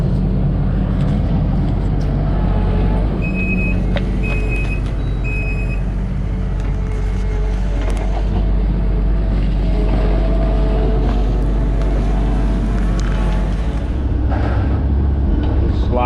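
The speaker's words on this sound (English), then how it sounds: "Sliding the road plate over to that knockout we got there." A Kobelco SK160 excavator drags a heavy steel road plate across a digging site for a house addition, giving a loud, steady low machine rumble with scraping texture and a few brief high tones, continuous throughout.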